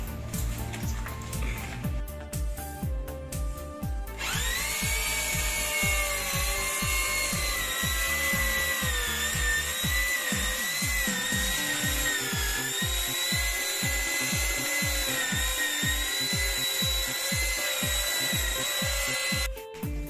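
A power drill with a mixing paddle churns tile adhesive in a bucket for an old wall, first a rough chopping start, then a loud steady whine with rhythmic slapping of the mix.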